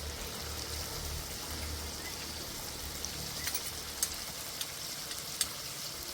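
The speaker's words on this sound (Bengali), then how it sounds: "ভালো করে কষে নেব" A steady, soft frying hiss as chopped tomatoes and jackfruit are sautéed, with a few faint crackles and pops rising over the constant sizzle.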